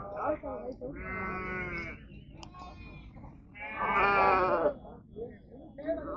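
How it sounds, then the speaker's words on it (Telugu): Sheep at a large livestock market bleat nearby in loud, drawn-out calls, two long overlapping bursts standing out above a crowd of more distant bleats and chatter from people in the background. "100 గొర్రెలకు పైన ఉన్నాయి ఇది."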